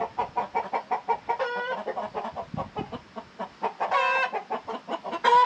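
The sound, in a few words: rooster clucking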